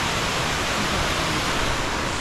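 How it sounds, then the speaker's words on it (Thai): A wide, low waterfall near Luang Prabang gives a steady, dense rush of falling water, a constant full roar with no breaks or voices. "น้ำตกแบบไม่ได้สูงแต่แบบมันกว้างมันสวย"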